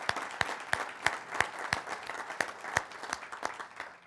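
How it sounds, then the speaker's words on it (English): Audience applause for Shay, a crowd clapping with a strong rhythmic beat of sharp, evenly spaced claps over a continuous bed of scattered hand claps. "let's give him a round of applause for his leadership on this."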